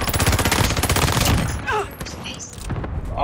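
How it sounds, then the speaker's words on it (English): Video game gunfire, with rapid automatic bursts hammering loudly for about a second and a half, then scattered shots under game audio. "Oh, somebody shooting at you"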